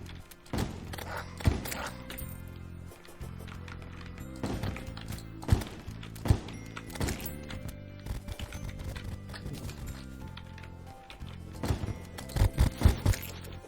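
Horse mount galloping in the video game Terraria, rapid clip-clop hoofbeats under a busy mix of game music and combat thuds, with occasional louder impacts.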